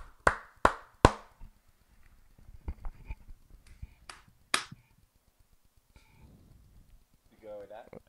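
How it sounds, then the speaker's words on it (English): Three sharp, loud hand claps in quick succession open the sequence, followed by softer knocks and a few more isolated claps, with a person talking near the end. "I'll clap again just to make sure."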